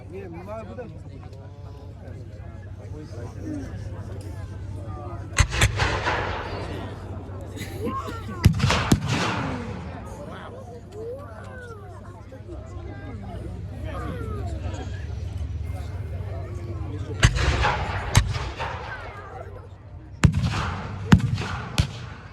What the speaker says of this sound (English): The 25-pounders are poised and ready to go, waiting for the command to put their missiles into the farm, into the German forces.